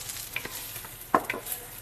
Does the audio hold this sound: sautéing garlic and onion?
yes